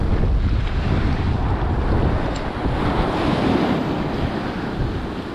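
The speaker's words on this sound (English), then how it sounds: "Perfect west wind right now." A steady west wind blows at an ocean beach on the New Jersey shore, with constant rushing surf and wind buffeting the microphone, loud and unbroken with no talking.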